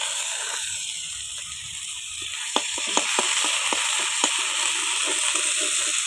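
Ginger paste with a little turmeric frying in hot oil in a kadai, a bright continuous sizzle with scattered crackles and pops, fairly close.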